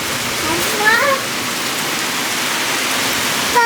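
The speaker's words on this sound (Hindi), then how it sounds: "बारिश आ रही है" Heavy rain falling, a dense steady hiss throughout, with a voice speaking briefly over it.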